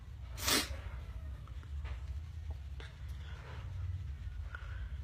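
One sharp, close sneeze over a low steady hum, followed by faint small rustles.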